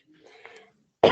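A woman coughs once, sharp and close, after a faint stretch of quiet background noise, the burst arriving abruptly near the end and staying loud.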